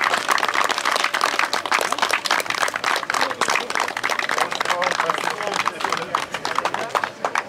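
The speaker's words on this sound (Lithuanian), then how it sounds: "Aplodismentai dar kartą" Crowd applause for the winners of round 3 of an autocross slalom event in Panevėžys, a dense, steady patter of many hands clapping at close range throughout, with busy outdoor noise.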